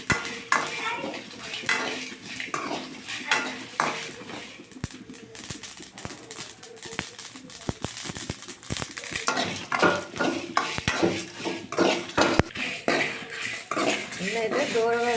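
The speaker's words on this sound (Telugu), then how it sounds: "బాదం పప్పు, నువ్వులు అన్నీ అయితే వేయించుకోవాలి. ఇవన్నీ ఎర్రగా వేయించుకోవాలి." Almonds, sesame seeds and dried red chillies dry-roasting in a pan, heard as repeated clinks and scrapes of a spoon against metal, close and irregular, with some soft background sounds.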